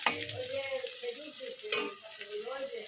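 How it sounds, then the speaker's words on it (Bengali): Onions sizzle as they fry in a pan, a continuous crackling hiss with soft stirring scrapes close by. "তো পেঁয়াজ বসিয়ে দিয়েছি, পেঁয়াজ ভাজা।"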